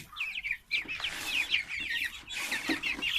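Chickens cluck busily at their 7 a.m. morning feeding, a dense run of close, overlapping calls and short squawks from several birds, steady throughout with no talk.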